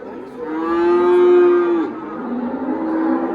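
A young Simmental hybrid bull at a livestock market gives one long, loud, close moo that swells and fades, followed by quieter lowing and background murmur; no talk over it.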